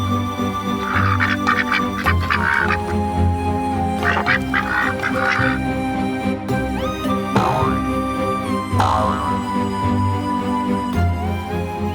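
A golden duck in an animated children's story quacks in a series of bright, repeated calls, loud and up front over continuous background music.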